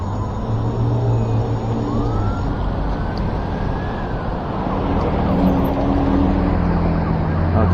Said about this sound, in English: I have no idea where the emergency vehicle's coming from. It sounds like it's headed this way.